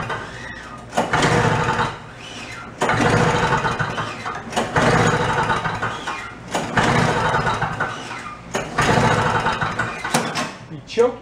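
A John Deere engine sputters and spits back in repeated bursts while someone tries to start it, several loud cranking surges separated by short pauses, with a voice speaking between attempts.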